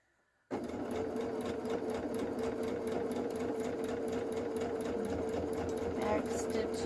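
A sewing machine starts abruptly and runs steadily, stitching fabric for a patriotic patchwork zipper pouch with a fast, even mechanical whirr and rapid needle rhythm, close and loud.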